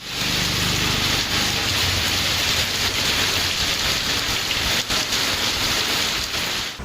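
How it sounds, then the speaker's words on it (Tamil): Steady, dense rain falls continuously on surfaces in a sudden morning downpour, a loud broadband hiss with no voices. "காலையில் திடீரென மழை பெய்தது"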